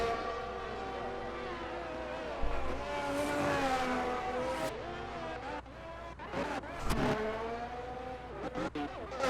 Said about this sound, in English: Next across the line will be the Alfa Romeo of Ace Phillip.